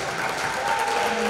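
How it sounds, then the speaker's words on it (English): A crowd at a spring sports awards night claps for the coaches, a brief, steady burst of applause filling the room. "let's give a round of applause to our three coaches awards"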